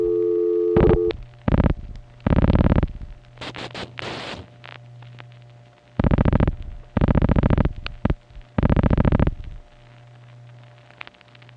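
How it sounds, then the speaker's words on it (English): Telephone busy signals heard while dialing numbers in 1970s DID prefixes, a series of loud, evenly spaced tone bursts with short gaps, mixed with clicks, scratchy line noise and a steady low hum. "Another thing you would expect to find dialing around in these DID prefixes were busy numbers."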